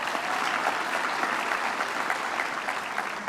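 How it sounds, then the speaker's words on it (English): Sustained audience applause fills a university graduation ceremony for the health sciences, law and theology faculties, a dense, steady wash of many hands clapping at even loudness with no voices over it. "So please give them a round of applause as well"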